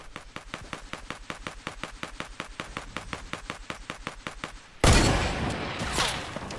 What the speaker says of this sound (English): You don't have to keep shooting at me like that.